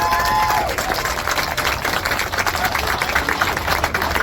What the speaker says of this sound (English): round of applause for Axton